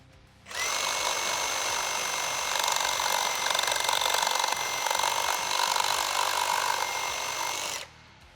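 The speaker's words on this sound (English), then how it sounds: "We've filled this piece of timber full of nails just to make it a bit more interesting." A Milwaukee Sawzall reciprocating saw with orbital action off cuts through timber full of nails, a loud continuous buzzing whine starting abruptly and running steadily for about seven seconds before stopping.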